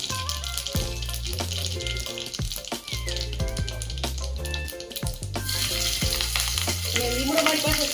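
Mustard seeds and green chillies crackle and sizzle in hot oil as a steady fizz running beneath a loud musical backing track, with the frying noise swelling brighter toward the end.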